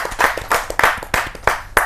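A Kavi Sammelan audience claps at a Hindi poetry gathering, rhythmic and loud, with sharp, regular hand claps falling in unison at a steady beat.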